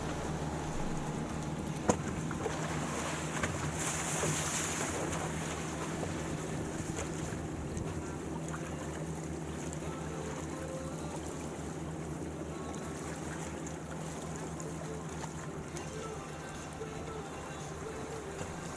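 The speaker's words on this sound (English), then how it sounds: "Lots of boats from Denmark today." Boat engines droning steadily on the water near the harbor at Marstrand on Sweden's west coast, with wind noise and lapping waves throughout and a brief louder gust midway.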